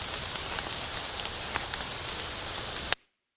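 Steady, dense rain falls close by with a constant hiss and scattered louder drops, then cuts off abruptly near the end.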